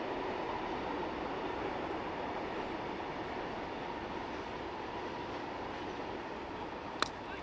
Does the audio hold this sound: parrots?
no